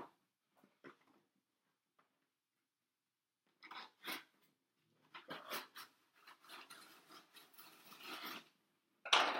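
Cutting open a shoebox package from a clothing company with a blade: scattered quiet scrapes, then rasping, tearing strokes through cardboard in uneven bursts, close up, with no talking.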